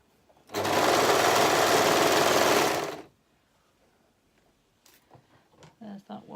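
Sewing machine stitching poppers onto a jersey harem romper: one continuous fast mechanical whirr lasting about two and a half seconds, close and loud, then quiet handling noises and a voice speaking afterward.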